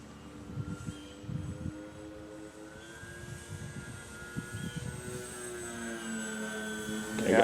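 A foam board RC plane flies slowly overhead, its small electric motor giving a thin, rising and falling whine at moderate distance, with brief wind bumps and faint background voices.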